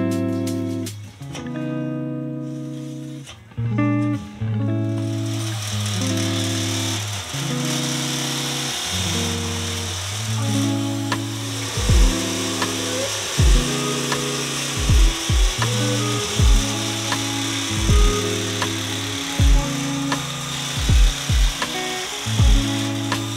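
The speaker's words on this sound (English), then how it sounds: "I'm gonna cut a strip of aluminium and then try and start shaping that" A strip of aluminium being cut in a home workshop while fabricating a custom tail light for a Yamaha V-Max 1200 motorcycle, with a steady run of rhythmic, buzzy cutting strokes, close and fairly loud, with no talk.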